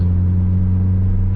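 Manual car engine running steadily after an upshift into third gear, a loud, even low hum with a smooth tonal drone, close and constant, no talking.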